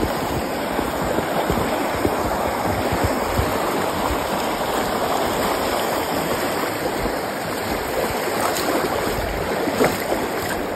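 A clear, snow-fed mountain river streams past with a high water level, a steady close rushing and burbling that holds evenly throughout with no voices.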